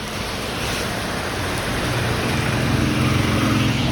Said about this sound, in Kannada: ನೋಡ್ರಿ ಮಳೆ ಈಗಿಂದ ಈಗ ಎಷ್ಟು ಬರ್ಲತ್ತೈತಿ